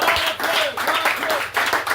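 A church congregation claps and cheers together in a steady, dense wash of applause that stays loud throughout.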